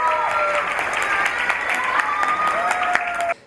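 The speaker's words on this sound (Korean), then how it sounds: "학생들이 떨지 않고 잘할 수 있도록 뜨거운 격려 박수 한번 부탁드리겠습니다." Sustained audience applause fills a hall at a Korean-language speech contest for foreign students at Hanseo University, with dense, even clapping that cuts off abruptly near the end.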